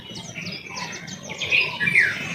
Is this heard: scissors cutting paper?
no